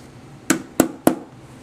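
Three sharp metallic taps, about a quarter second apart, as a hammer drives a punch against a pin on a Mosin Nagant 91-30 rail, close and distinct over quiet room tone.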